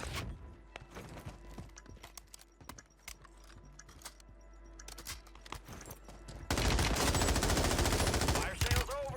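Assault rifle fire in the Warzone video game on Rebirth Island, with rapid sharp bursts scattered throughout and a loud, dense stretch of shots near the end over other game sounds.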